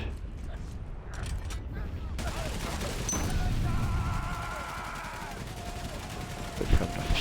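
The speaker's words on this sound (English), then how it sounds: "So the machine gun to dissipate." Machine gun fire in the World War I video game Valiant Hearts: The Great War comes as rattling bursts and mechanical clatter amid battle noise, with a voice talking over parts of it.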